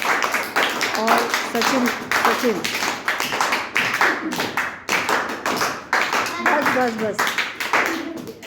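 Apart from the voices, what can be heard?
class clapping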